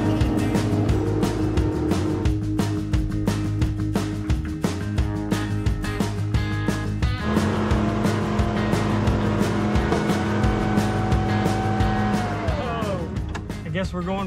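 A wrecker tow truck drives off-road on a trail while following a Bronco that has lost its steering, its engine droning steadily and loudly throughout with a shifting tone near the end.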